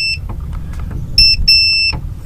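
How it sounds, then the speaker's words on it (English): A multimeter buzzer in continuity mode, used while wiring a brake pedal switch on an early Ford Bronco, sounds two steady, high-pitched electronic beeps in close succession, each under a second long, over a low background rumble. "You can hear the buzzer going off there."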